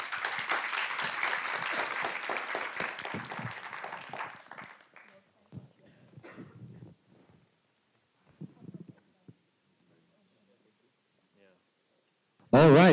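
An audience at a blockchain conference panel claps in a loud, full burst lasting about four seconds. It tapers off into quiet, with a few murmuring voices afterward.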